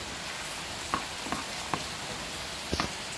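Fried soybeans are stirred into soy chilli in a hot pan, a soft steady sizzle broken by a few sharp spoon clinks and scrapes against the pan.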